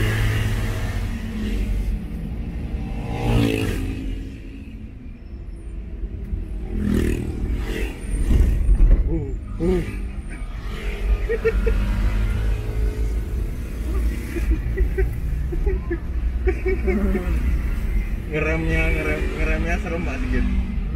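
A 1962 Chevrolet Impala, all original, driven gently: low engine rumble and road noise with some clatter fill the cabin throughout while people talk over it.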